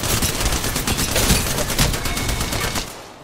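Rapid bursts of automatic gunfire in the Apex Legends video game, dense overlapping shots firing continuously and loud for about three seconds before tapering off.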